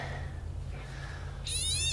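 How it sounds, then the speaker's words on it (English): Tree frog squeaking while a garter snake eats it in a garden bed by a pond: a faint thin cry, then a brief higher squeal near the end over steady low background hum. "that squeaking you hear, that's a tree frog being eaten by that snake."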